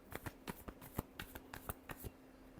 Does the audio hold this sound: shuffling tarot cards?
yes